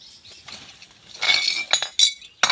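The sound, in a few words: glass bottle breaking while sorting bottles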